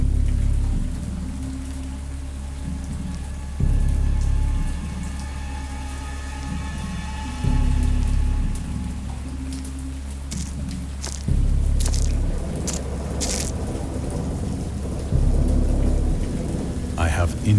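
A heavy rainstorm with rolling thunder in the Dagon video game: constant hissing rain on surfaces, with deep booming thunder surges recurring every few seconds and sharper cracks midway, loud and enveloping.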